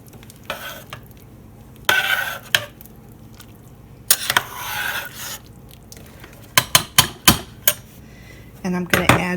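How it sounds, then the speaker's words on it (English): Red pepper flakes are stirred into a pot with a utensil, making intermittent scraping swishes, then a quick run of sharp knocks against the pot's metal near the end, close and clear over a quiet kitchen background. "And then I'm going to stir that in."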